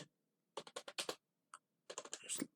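Typing on a computer keyboard at a command prompt: a quick burst of crisp clicking keystrokes after a brief silence, then a lone tap, then another fast run of keys, close and clear with no voices.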